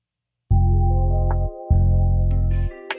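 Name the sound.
A song played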